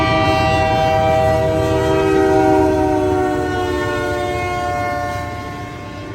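A Union Pacific freight train rolls past in Casa Grande, Arizona, its horn sounding a long, loud, steady chord over the continuous rumble of the wagons, fading slightly toward the end.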